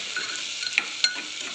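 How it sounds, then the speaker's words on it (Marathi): Vegetables for a pea and carrot pulao are sautéed over a low flame, giving a soft steady sizzle with two quick spoon scrapes against the pan, close and without talk. "सगळ्या भाज्या आपण आता मस्तपैकी मंद आचेवर त्याला परतून घेऊया."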